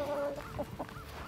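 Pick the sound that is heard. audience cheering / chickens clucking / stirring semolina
chickens clucking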